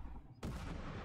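A bomb or grenade detonating in the game Papers, Please, a single sudden loud boom after a quiet moment, followed by a sustained rumbling roar that fills the rest of the short moment.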